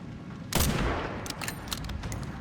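In Resident Evil Requiem, a loud gunshot sets off an exploding barrel with a heavy blast. A rumbling tail follows, then scattered smaller cracks and bangs.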